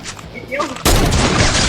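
A sudden loud burst of rapid automatic gunfire in the mobile shooter Free Fire, fired through a wall, erupting after a brief quieter moment with faint voice sounds, then sustained and close.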